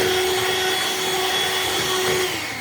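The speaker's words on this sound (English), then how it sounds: "just whisk it until it blends together and become creamy" Powdered sugar and butter being creamed with an electric whisk: a steady, close motor whir that runs evenly the whole time, with no voices.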